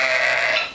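A single sheep in a winter farmyard lets out one short, nasal bleat, close and clear, alone for under a second.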